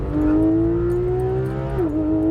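A Porsche GT3 RS track car's engine drones loudly and steadily while driving, its tone rising slightly before dipping briefly near the end, with no voices over it.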